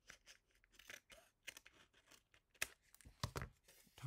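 Small scissors snipping a paper craft finger puppet, a run of short crisp cuts at uneven intervals, close and quiet, with light paper rustling between snips.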